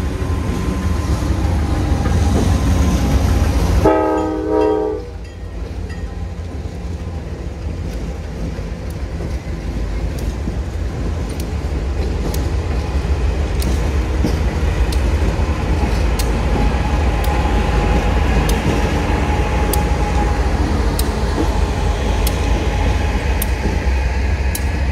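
A Pan Am Railways freight train rolls past, loud and close, with a continuous heavy rumble and rattle of cars, a short horn-like tone early on, then steady wheel noise and clanks to the end.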